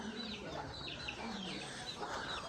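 Chickens clucking inside a farm animal shed in a Pakistani village, a steady mix of soft clucks and calls layered over continuous barnyard background noise.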